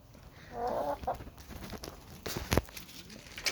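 Hens clucking inside a chicken coop beside a pigeon coop, some sitting on eggs; soft, close clucks and murmurs come in irregular bursts over faint background noise, with no talking.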